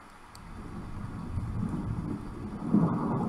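Thunder rumbles over steady rain during a storm in a survival video game, a low, muffled roll that swells toward the end.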